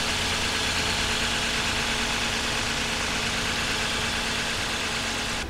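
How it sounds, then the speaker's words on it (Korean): A 2019 Genesis G90 V6 idles steadily in an open engine bay, an even, continuous hum recorded up close with no talking. "자, 엔진 소리 한번 들려드릴까요?"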